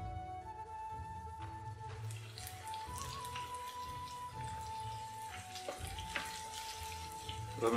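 Battered tofu frying in oil until golden, a faint continuous sizzle with a low hum and occasional light clinks in a kitchen, no voices.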